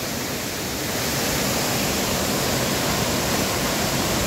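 Cachoeira Monte Sião waterfall pours in a loud, steady broadband roar, dense and continuous with no pauses and no voices.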